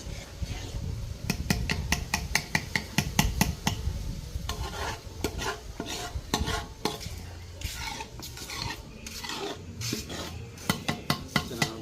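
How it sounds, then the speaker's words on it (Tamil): A large pot of Jaffna-style thothal sweet is stirred continuously, with repeated rhythmic scraping strokes of a ladle against the metal pot, quick and steady at first, then looser and more irregular. "அப்படியே வந்து கிண்டி கொண்டு இருக்கணும்"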